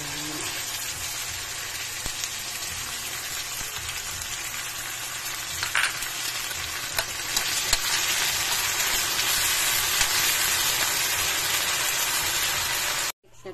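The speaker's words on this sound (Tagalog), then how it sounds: "Sunod natin ilalagay ang kamate." Tomatoes frying in a pan for a pokchoy stew, giving a steady, close broadband sizzle that runs evenly throughout and cuts off abruptly at the end.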